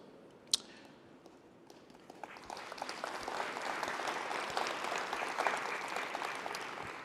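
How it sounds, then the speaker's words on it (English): Audience at an AAAS science meeting breaks into applause, starting with a few scattered claps and swelling into steady, moderately loud clapping that carries on to the end. "so let's hold the applause until the end"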